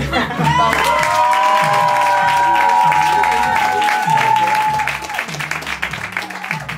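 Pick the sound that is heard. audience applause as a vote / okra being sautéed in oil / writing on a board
audience applause as a vote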